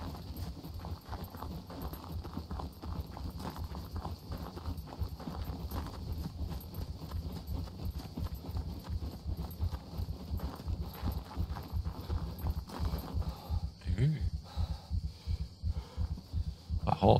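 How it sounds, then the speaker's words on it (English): Steady horse hooves clip-clop in a brisk, even rhythm throughout in the video game SCUM, fairly close, with a faint ambient hum underneath. "A horse."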